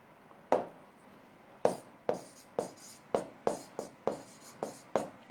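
A hand writes during a chemistry lecture, making a quiet series of sharp, separate taps and strokes in an uneven rhythm, about a dozen in all, close by and with no talking.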